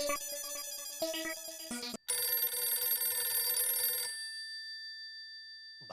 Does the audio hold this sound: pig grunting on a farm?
no